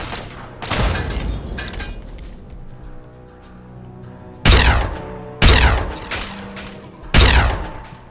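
Gunfire in the video game Fallout 3: a burst of shots near the start, then three sharp, loud gunshot blasts spaced a second or two apart against a quieter background.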